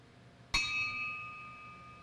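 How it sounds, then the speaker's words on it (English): A single memorial bell struck at a Vietnam veteran commemoration rings out once with a sharp attack, then a clear sustained tone that slowly fades in a quiet room. "Larry L. Tomier, and the final bell that I want to ring is for all of the Vietnam era veterans that did not make it home."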